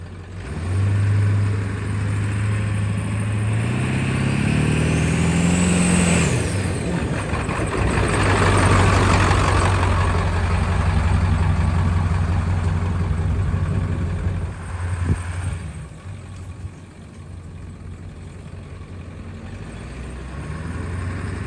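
A straight-piped diesel truck's exhaust drones low and steady, rising briefly as the engine revs, then settling back into a constant rumble.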